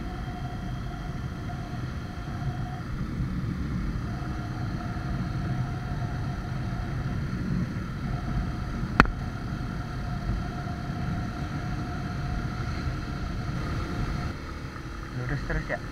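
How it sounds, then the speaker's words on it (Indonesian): A mid-size motorcycle engine pulls steadily uphill on a cloudy country ride to a waterfall, a continuous low rumbling drone with wind noise and a brief sharp click midway, without talk. "motor laki tanggung ini kuat nggak nanjak terus"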